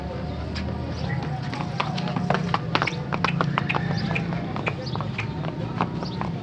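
Horse hooves clip-clop on the ground during a trial ride at a horse sale in Shadara, Lahore, with sharp irregular hoofbeats close by under background crowd talk.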